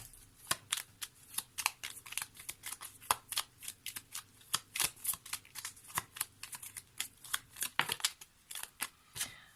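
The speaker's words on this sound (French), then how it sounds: "on va y poser une deuxième carte" Tarot cards being drawn and laid down during a reading, heard as a steady run of crisp, close card snaps and slides with no one talking.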